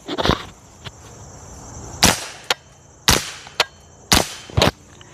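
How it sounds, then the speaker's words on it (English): A Matador Arms Mat9k firing 147 grain Mag-Tech rounds: a handful of sharp, loud shots at uneven intervals, each followed by smaller metallic clicks of the bolt cycling, with quiet room tone between. "this is quiet for a gun at this price point. You're mostly just hearing the bolt"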